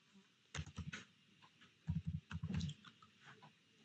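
Someone types a card number on a computer keyboard while filling in an online university exam form: close, crisp key clicks in two quick bursts with short pauses between them.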